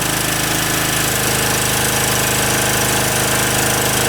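A loud, close OKAY 2.8 kW portable generator with copper winding and AVR stabilisation runs steadily, its engine giving a constant rapid throbbing drone.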